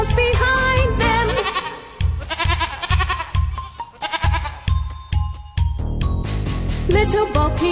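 Sheep bleat repeatedly in a nursery rhyme, a series of loud, wavering baas in rhythmic bursts set against a bouncy musical backing.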